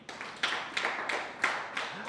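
A few scattered hand claps from a small audience of children and adults on a French TV show, sparse and uneven, coming in separate bursts rather than sustained applause.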